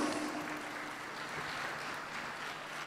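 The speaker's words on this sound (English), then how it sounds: "Please give him a loud round of applause." Audience at a research, innovation, design and entrepreneurship event applauding to welcome a speaker, a steady wash of clapping from a crowd, somewhat distant and even throughout.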